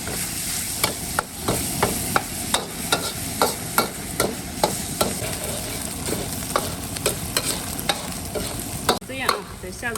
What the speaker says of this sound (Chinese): 把这肉炒香。 先把油炒出来啊，给它炒熟。